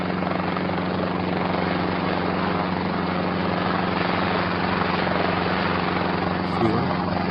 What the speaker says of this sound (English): Looks like the helicopter is chasing them or something.